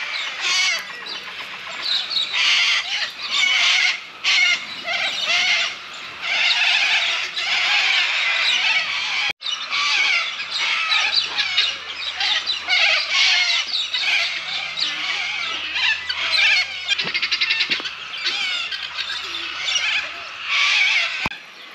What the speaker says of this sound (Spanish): Estos pajaritos, qué hermosos.